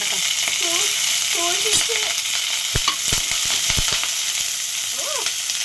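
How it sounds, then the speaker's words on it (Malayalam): Hot oil sizzles steadily while small seeds crackle and pop in quick, irregular bursts, close and fairly loud. "എണ്ണയൊക്കെ തെറിക്കുന്നു"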